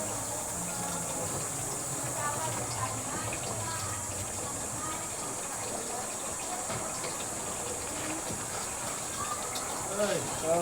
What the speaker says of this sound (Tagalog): at ating papalitan ng tubig